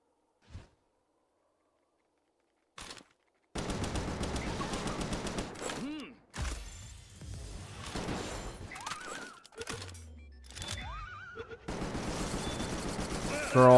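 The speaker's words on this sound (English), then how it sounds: "I just need to shoot them." Rapid bursts of gunfire from shooting in the video game Palworld crackle in several stretches, mixed with game effects and a brief voice, after a quiet opening.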